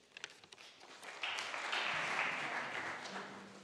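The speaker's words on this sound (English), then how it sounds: "please contain your applause" An audience applauding at the 2022 BERMUN Model UN opening ceremony: a few scattered claps at first, then a soft wash of clapping that swells and holds for a couple of seconds, heard from a distance.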